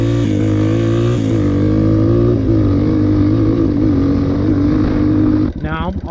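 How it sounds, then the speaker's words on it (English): Dirt bike with a six-speed gearbox shifting up through its gears with the clutch, the engine note loud and close as it climbs in pitch, drops at each shift and rises again, then cuts off near the end. "Let me go through the gears, all 6 gears, shifting with and without the clutch."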